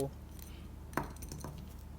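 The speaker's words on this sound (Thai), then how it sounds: "คนให้ส่วนผสมทุกอย่างเข้ากันค่ะ" Utensils clink against a bowl while a winged bean and fresh shrimp salad is tossed together, with one sharp knock and a few lighter taps and scrapes, close and fairly quiet.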